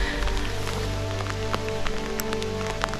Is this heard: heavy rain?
yes